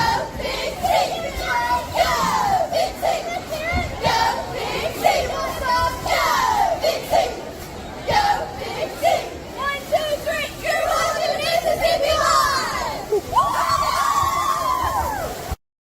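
Corinth High School's cheer squad cheers loudly and continuously, a mass of high, excited shouting voices and chants rising and falling with no pause.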